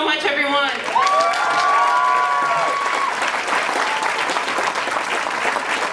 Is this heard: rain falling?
no